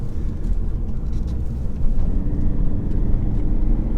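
Audi A5 2.0 TDI diesel car accelerating hard from inside the cabin, a steady loud low rumble of engine and road noise that swells slightly partway through, with no talking.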